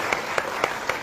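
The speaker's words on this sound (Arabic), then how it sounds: "تصفيق عليه يا أولاد" Four evenly spaced hand claps from a small group of children at a Quran recitation competition, sharp and moderately close, with brief silence between each.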